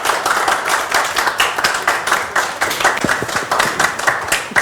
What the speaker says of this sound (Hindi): मैंने कहा तालियां बजती रहनी चाहिए